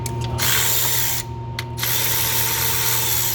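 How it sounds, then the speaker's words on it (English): A quarter-inch drive ratchet works an 8 mm bolt on the oil dipstick tube of a 6.7 Ford diesel. Close, steady clicking runs nearly throughout, broken by a couple of brief pauses. "I'm going to come back here again with my quarter drive. Get that 8 milli."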